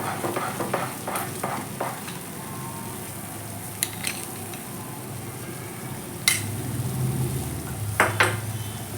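Ghee is added to a pan of green grape halwa and stirred. There is a constant close sizzle with spoon scrapes, and sharp clinks of metal against the pan ring out now and then.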